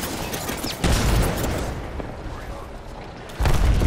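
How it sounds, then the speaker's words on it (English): Heavy bombing explosions in a multiplayer shooter video game, deep rumbling booms that hit loud and then decay into a lingering roar, with a second blast near the end. "I'm bombing. I'm bombing right here."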